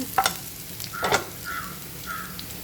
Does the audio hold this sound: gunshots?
no